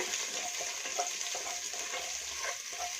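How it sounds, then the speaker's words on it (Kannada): Cumin and crushed ginger-garlic paste sizzle in hot oil in a pan, a steady close crackle with light stirring scrapes throughout. "ಅದನ್ನು ಕೂಡ ಹಾಕೊಂಡು ಚೆನ್ನಾಗಿ ಫ್ರೈ ಮಾಡ್ಕೊಳ್ಳೋಣ"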